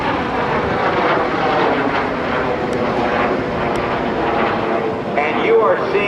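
F-86 Sabre jets fly in formation at the NAS Oceana airshow, a loud continuous jet roar filling the air while an announcer talks over it.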